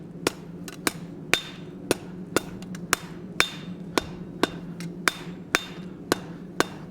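Blacksmith hammering steel at the near edge of the anvil, a dozen sharp ringing blows struck at a steady, roughly half-second rhythm, close and clear over a faint background hum.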